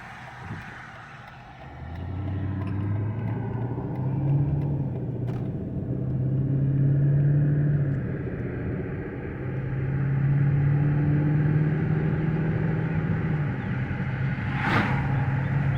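Rebuilt HEMI V8 Chrysler 300 cruising down the road, a steady low engine drone and road rumble from inside the car, swelling slightly as it accelerates, with no voices.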